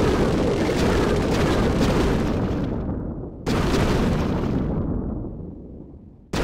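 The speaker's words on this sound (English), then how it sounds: "They blew up the walls" Wall breakers in Clash of Clans detonate against walls as two heavy, roaring explosions. Each one is loud and near, then rumbles and fades out before the next blast hits.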